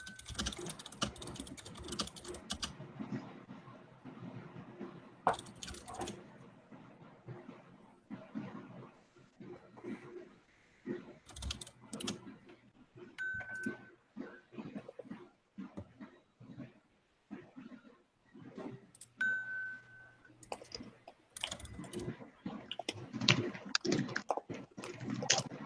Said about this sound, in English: typing commences.